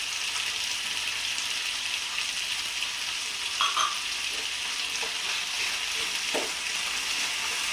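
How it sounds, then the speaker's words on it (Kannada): Spices, chickpeas and poppy seeds fry in a pan for mushroom sambar with a steady, moderate sizzle. A few soft stirring scrapes and taps sound over it, with no voices. "ಇವೆಲ್ಲ ಸ್ವಲ್ಪ ಚೆನ್ನಾಗಿ ಫ್ರೈ ಆಗ್ತಾ ಇದೆ."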